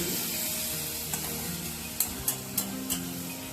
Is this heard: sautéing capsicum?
yes